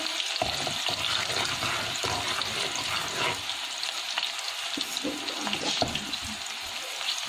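Steady crackling sizzle of onions and garlic frying in hot oil as a tempering for kadhi pakora, continuous and close, with occasional stirring clinks and no talking.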